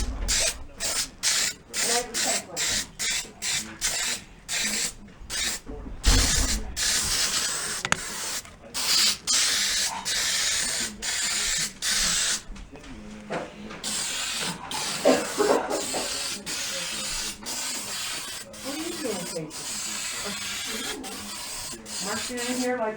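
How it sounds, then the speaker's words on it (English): Spray can hissing in repeated bursts onto a 1965 Volkswagen Beetle part, close and loud with short gaps between sprays, while a person talks intermittently. "Ooh, it's spraying everywhere."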